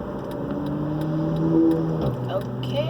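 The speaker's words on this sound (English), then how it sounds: "Mr. Audi, we get it. You drive a fast car." A fast Audi car drives past: a steady, fairly loud engine drone whose pitch drops partway through as it goes by.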